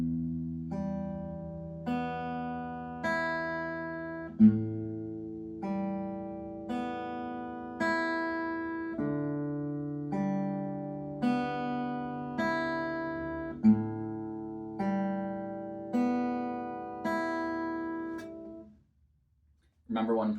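Acoustic guitar fingerstyle exercise, single plucked strings picked in a steady looping pattern, each note ringing clearly and overlapping the next, played alone for about eighteen seconds.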